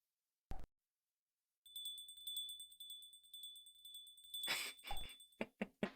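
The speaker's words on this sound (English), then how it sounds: "This is a sound effect for my bell now." A bell sound effect, a bright sustained ringing tone that enters after a single short click, holds for a few seconds, then gives way to a cluster of sharp clattering hits.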